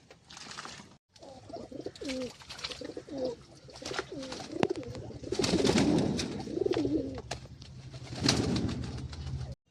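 Pet pigeons bathing in a cage coo repeatedly in soft, throaty phrases up close, mixed with splashing, wing flutters and scattered clicks and knocks.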